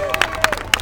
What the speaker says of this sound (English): Stan, that deserves a lot of applause